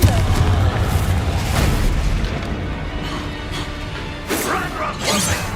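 A Confringo blasting spell explodes in the Hogwarts Legacy video game, a loud continuous booming roar with crashing bursts that sustains throughout, with a shouted voice mixed in.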